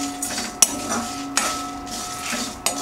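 Whole garam masala spices are dry-roasted in a pan, with a spatula giving several sharp metallic clinks and scrapes at irregular intervals over a soft background.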